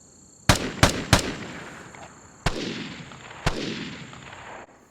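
Gunshots from the video game Vigor, three quick sharp cracks in a row followed by two more spaced-apart shots, each loud and close with a ringing tail fading after it.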